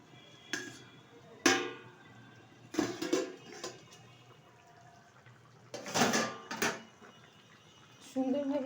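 A metal lid is lifted and set back on a pot of simmering fish curry, giving several scattered clanks and clatters, some sharp and ringing, among quiet kitchen noise.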